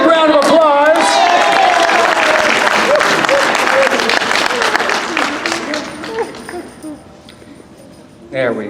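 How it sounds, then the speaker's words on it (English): Audience at a magic show during a horror fest breaks into loud applause and cheering, fading out toward the end as a voice briefly speaks. "Give her a big round of applause"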